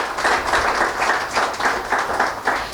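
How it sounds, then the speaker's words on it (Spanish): Applause from a church congregation at a Sunday service, a steady dense patter of many hands clapping that pulses slightly and fills the room throughout. "Un fuerte aplauso al Señor por su vida"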